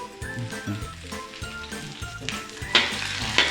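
Onions sizzle in a pan while being stirred for tamarind tofu, a close crackling fry with irregular spatula scrapes and clanks, and sharp spikes of louder sizzle near the end.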